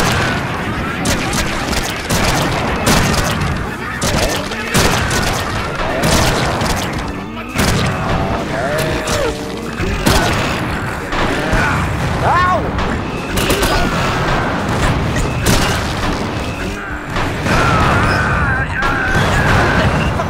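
Rocket explosions in the video game Slayers X: Terminal Aftermath, a dense, continuous barrage of booms, crashes and mechanical clatter running throughout at steady high loudness, with voices talking over the chaos.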